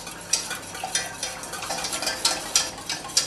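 A utensil stirs flour quickly into a chocolate soufflé base in a bowl, making rapid scraping and clinking strokes with a steady rhythm of sharp taps close by.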